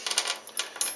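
A few small spare screws are set down on a surface, giving several quick, light metallic clicks and taps within a second, close and fairly quiet.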